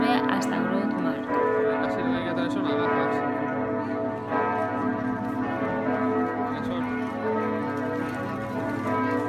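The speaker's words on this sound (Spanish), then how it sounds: "El sonido con el que nos recibió la ciudad son las campanas de la iglesia de San Salvador" Church bells of the Church of San Salvador in Bruges peal continuously, loud and dense, with overlapping strikes ringing steadily for several seconds over an outdoor city background.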